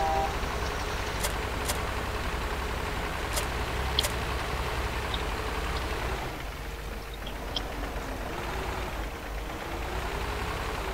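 Tractor engine running steadily in a farming video game, a low continuous motor hum with a few faint clicks and ticks over it, no talking.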